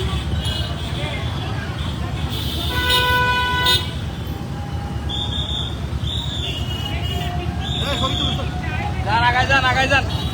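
A motorcycle rally of thousands of bikes at an election campaign show of strength in Dhaka, horns tooting repeatedly over a dense engine roar and crowd hubbub, with shouting voices throughout.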